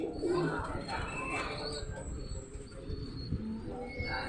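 Flyer pigeons coo softly during feeding, a low murmuring burble among rustles and other faint noises, with talk nearby.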